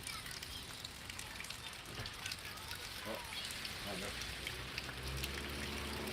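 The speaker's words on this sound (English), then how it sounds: "it's like it's raining" A steady, dense hiss of thunderstorm rain in Pittsburg, Kansas, heard from a porch, runs throughout, with faint voices murmuring underneath.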